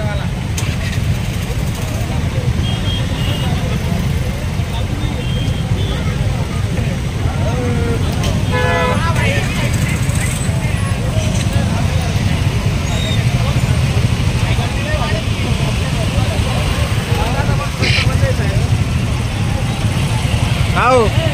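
Traffic stands jammed on a railway flyover after a bus broke down, a constant close rumble of idling cars and buses with passing engines and occasional horns, while people talk nearby throughout.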